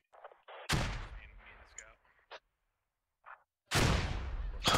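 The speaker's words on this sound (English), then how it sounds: "One stupid grenade blows them all up." Grenades blowing up sandbags in a squad-based military video game: two loud, booming blasts a few seconds apart, each with a long rumbling tail, separated by faint fragments of voices and smaller effects.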